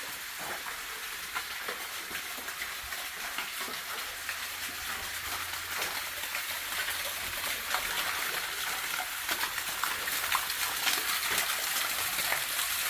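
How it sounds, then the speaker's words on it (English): Small waterfall inside a cave at Hell's Gate, Kenya, giving a steady, broad rushing hiss of falling water that holds unbroken and fairly loud throughout, with no voices. "there's a waterfall behind me"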